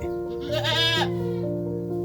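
Goat bleating close by, Anglo-Nubian and native goats at a birthing, one long wavering bleat that swells and fades, with a steady hum underneath.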